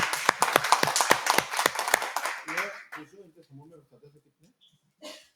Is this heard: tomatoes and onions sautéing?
no